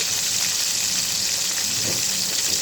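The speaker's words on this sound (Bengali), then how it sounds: "আর কাঁচামরিচ লাল করে ভেজে নিই" Garlic and green chillies fry in a pan, a steady, loud, close sizzle and hiss that runs unbroken throughout, with no talk.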